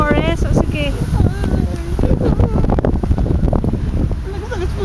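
Gusty wind from a Signal No. 1 storm in Dalian, China, buffets the microphone in a low rumble while people talk loudly and close over it.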